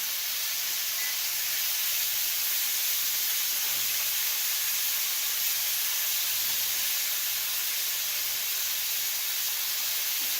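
Hibachi-style Japanese steak cooking on a hot griddle makes a constant, even hiss of sizzling fat, moderately loud and close, with no talk over it.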